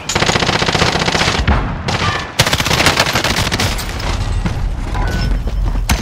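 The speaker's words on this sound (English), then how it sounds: "Stun grenade out." A stun grenade goes off during a firefight in Call of Duty: Modern Warfare, a sharp burst after a short lull, set among dense, loud machine-gun fire and rapid gunshots that run almost without a break.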